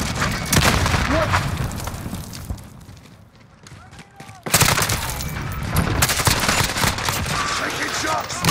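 Video game gunfire in a battle at Cheshire Park, dense bursts of shots and booms near and loud, easing off briefly mid-clip before the firing resumes hard, with a voice talking over part of it.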